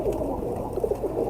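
Fakir gul pigeons cooing in a tree roost, a soft, low, murmuring coo repeating in gentle pulses, close by and steady, with no talk over it.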